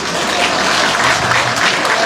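Dense, loud, continuous clapping from a large crowd at a political rally in Sungai Besar, sustained without a break.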